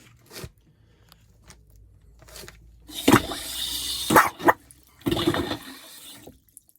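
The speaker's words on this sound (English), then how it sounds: "The water's coming through when the valve's depressed, turning off when it floats." Water bursts and rushes in short spurts as a cistern ball valve with a new washer opens and shuts, separated by quiet gaps and soft clicks of handling.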